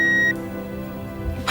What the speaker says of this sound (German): Sie können mir aber nach dem Piepton eine Nachricht hinterlassen